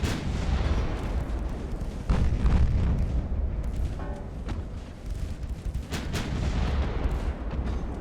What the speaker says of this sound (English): Our 6-inch even bothered to shoot?